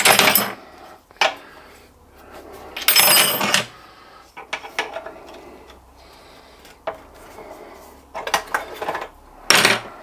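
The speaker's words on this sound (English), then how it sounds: "We take that banjo bolt out of there." Metal clinks, taps and scrapes as a banjo bolt is worked out of the fuel line on an old J.A.P. water pump, with a seized valve on the line. Sharp bursts come in irregular clusters with quiet gaps between.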